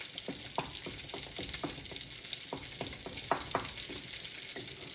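Lumpy mashed potatoes with milk and melting butter cook in a pan, giving a steady low sizzle broken by repeated soft scraping strokes of stirring, close and moderately quiet with no talking.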